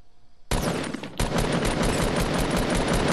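Rapid automatic gunfire in Fortnite, a dense burst of loud shots starting suddenly, pausing briefly, then continuing in fast repeated bursts.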